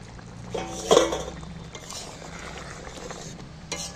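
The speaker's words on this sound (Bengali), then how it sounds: "একটু আমি কষিয়ে নেব, তাহলে কষানোটা খুব ভালো হয়।" Jackfruit curry sautéed and stirred in a pan, with soft sizzling and scraping of a spatula, a louder clatter near one second, then steady low frying noise throughout.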